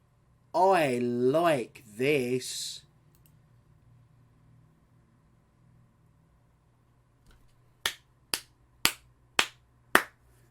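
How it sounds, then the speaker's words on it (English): Five sharp, evenly spaced hand claps, loud and close in a quiet room, delivered as a deliberate slow clap after a brief stretch of speech. "Slow clap for genuine intelligence."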